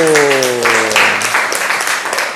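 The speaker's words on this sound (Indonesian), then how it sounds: "Tepuk tangan buat Rahul" Steady applause from students in a classroom, dense clapping filling the whole stretch, with a brief tonal tone fading at the start.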